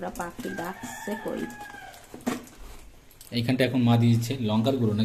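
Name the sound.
rooster crowing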